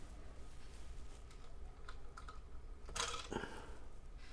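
Keys clacking on a Drop CSTM65 mechanical keyboard with south-facing keycaps, a scattered run of fairly quiet taps with a louder burst of strokes near the end, no voices.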